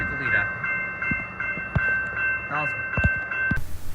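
A train bound for Goleta passes through Glendale, a steady rumble with a sustained horn tone and scattered clanks of wheels and couplings, while a voice talks over it.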